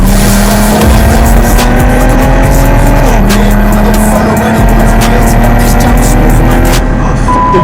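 A Nissan 370Z sports car accelerates hard during a chase, its loud engine rising in pitch with a brief dip at a gear shift, while tires squeal and road noise roars close by.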